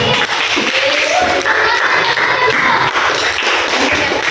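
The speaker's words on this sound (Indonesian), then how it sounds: "Tepuk tangan buat tadi" A classroom of students applauding together, a dense, continuous patter of claps held at steady volume for several seconds with some voices mixed in.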